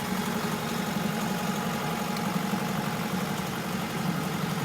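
Sailboat diesel engine running under way in a steady, low, droning hum with constant vibration, mixed with broad wind and water noise and no pauses.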